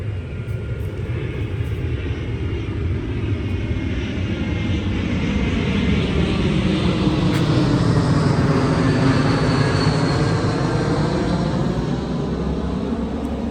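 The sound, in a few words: airplane flying overhead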